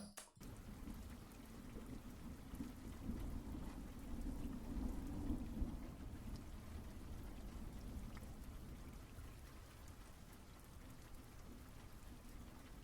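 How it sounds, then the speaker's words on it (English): Rain and thunder from a scary video game roll in as a continuous downpour with a deep rumbling thunder swell, steady and enveloping with no voices. "The rain seems to have let up a bit now"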